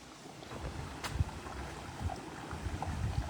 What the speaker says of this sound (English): every garden should have a waterfall. In fact, it's a must